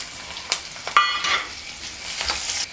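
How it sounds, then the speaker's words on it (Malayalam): Garlic sautéing in oil in a pan for Kerala-style egg roast, a steady close sizzle broken by a few sharp stirring scrapes and clinks, no voices. "നന്നായിട്ട് വഴറ്റി കൊടുക്കാം."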